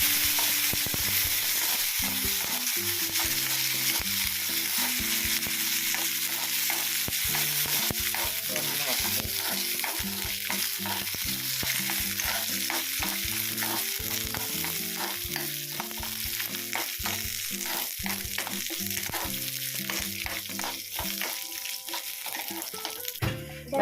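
Curry leaves and panikoorka sizzling and frying in a pan for chutney, a steady close crackle with stirring scrapes throughout, no talk.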